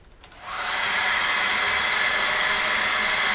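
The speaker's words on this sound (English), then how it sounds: "pinch your wife's hairdryer, stick it in inside, switch it on to hot" A hair dryer switches on and blows at full power on its hot setting, a loud steady rushing whoosh that holds without change.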